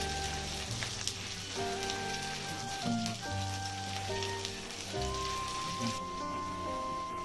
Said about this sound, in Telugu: పొడవుగా కట్ చేసిన ఉల్లిపాయలు ఇందులో వేసుకొని బ్రౌన్ కలర్ వచ్చే వరకు మీడియం ఫ్లేమ్ లో వేయించుకోవాలి